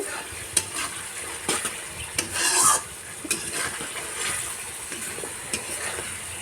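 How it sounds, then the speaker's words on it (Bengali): Spice masala for prawn curry frying in a pan, a continuous close sizzle broken by rhythmic scraping strokes of a spoon stirring it, no voices. "তো এবার মশলাটাকে ভালো করে কষিয়ে নেব"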